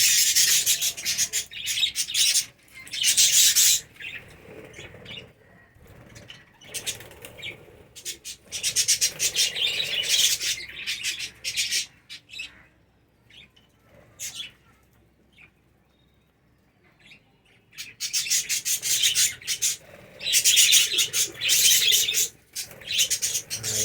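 A colony of budgies feeding on water and seed, with bursts of busy chirping and scratchy rustling that come and go in waves, loud and close, separated by quieter stretches.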